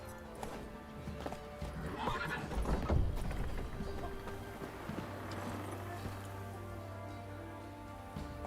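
Witcher 3 video game horse Roach galloping with rhythmic hoofbeats and a neigh, set against a continuous music and ambience bed at moderate loudness.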